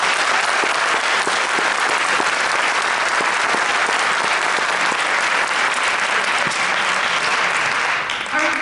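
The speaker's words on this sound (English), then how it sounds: "So let's give one more round of applause for this." Loud, sustained applause from a large audience, continuous clapping filling the room without a break.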